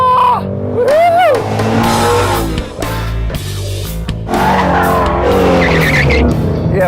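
A Ford Mustang Shelby GT350 brakes hard on track, its tires squealing loudly and continuously under a roaring engine, with brief voices behind the close, sustained screech.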